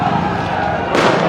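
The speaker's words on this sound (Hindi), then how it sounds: "यहाँ पर देखिए आतिशबाजी का दौर चल रहा है" Fireworks set off by BJP supporters at a by-election vote-counting site in Ramgarh, heard as a continuous loud crackle over a noisy crowd, with a sharper burst of bangs near the end.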